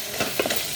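Egg curry masala is stirred in a rice cooker pot, giving a brief, soft scraping swish over a steady sizzling hiss.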